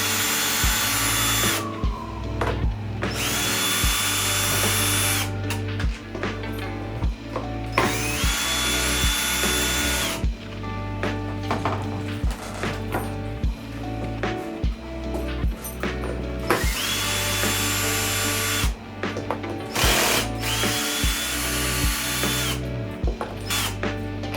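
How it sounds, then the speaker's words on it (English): A cordless power drill repeatedly whirs in short bursts as it backs screws out of a Onewheel electric skateboard, each run lasting a few seconds between pauses and clicks, loud and close with a steady mechanical hum underneath. "You're going to want to take all of these screws off."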